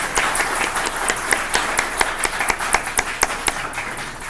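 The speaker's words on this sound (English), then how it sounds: "I'd like to give a round of applause for all of you for being with us" A conference audience applauds steadily throughout, with a few distinct, evenly spaced loud claps standing out near the front of the crowd.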